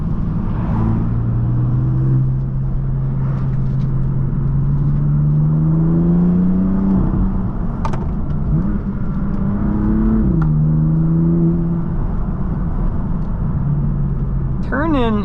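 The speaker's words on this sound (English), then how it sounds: "this is just stock exhaust right now with the valves open" Stock exhaust of a BMW F80 M3 / F82 M4 with its valves open, a steady loud engine drone rising and falling in pitch as the car accelerates and shifts through gears, heard from inside during spirited road driving.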